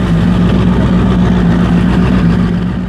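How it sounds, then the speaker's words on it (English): A turbocharged V8 engine fitted in a personal watercraft idles with a steady, deep, loud rumble, continuous and close throughout with no change in pace. "I stuck the V8 engine into a personal watercraft."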